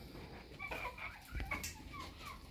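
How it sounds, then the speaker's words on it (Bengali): Free-range native chickens kept in a small netted pen on a farm cluck and call intermittently, a few moderate bird sounds scattered over a quiet background with no talking. "এখানে আমি মুরগি আবদ্ধভাবে লালন পালন করতেছি"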